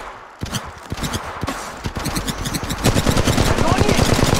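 Rapid automatic gunfire from the Apex Legends Mobile video game, a dense rattling string of shots that grows louder and more continuous toward the end, heard close with game sounds behind it.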